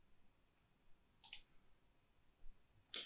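Two sharp mouse clicks on a button in spreadsheet query software, one near the start and one at the end, both close and crisp against a quiet room.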